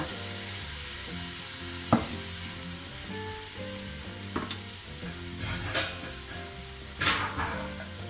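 Endives sizzling and frying in a pan after a splash of lemon juice, a steady crackling hiss with a few sharp clinks of utensils against the pan, close and without talk.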